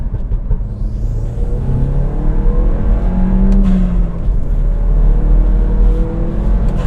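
A turbocharged all-wheel-drive Mini Paceman engine pulls hard at full throttle in third gear, a steady close-up drone with a gently rising pitch that holds a fairly constant tone throughout, with no voices.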